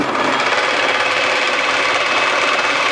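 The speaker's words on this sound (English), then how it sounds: "I got my lathe running full speed, which is not really fast enough for brass." A metal lathe spins at its top speed, turning brass stock to make a small engine needle valve, giving a steady, loud, even mechanical whir and hiss throughout with no talk.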